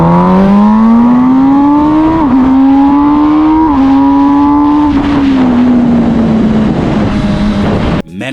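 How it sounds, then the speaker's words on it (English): MV Agusta Brutale 1000 RS motorcycle exhaust revving hard, a loud, close, high-pitched shriek climbing in repeated pulls before dropping away, alone with no talk. "It is probably the meanest exhaust I've ever heard."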